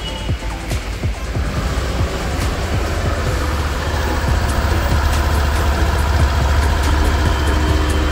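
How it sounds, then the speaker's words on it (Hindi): A 2024 Suzuki Burgman Street 125 scooter engine idles steadily with a low, continuous exhaust drone that stays loud and close throughout, with no speech over it. "तो कुछ इस तरह का आपको एग्जॉस्ट नोट यहाँ पर सुनने को मिल जाएगा"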